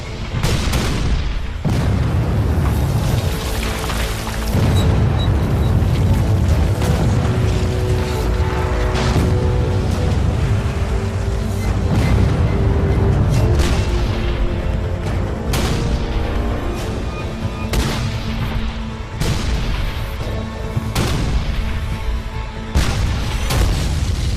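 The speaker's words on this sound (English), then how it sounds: "It's the largest artillery barrage ever in the Western Hemisphere." Heavy cannon fire from a Battle of Gettysburg artillery barrage, with repeated deep booms and blasts in irregular succession over a continuous low rumble, loud and close.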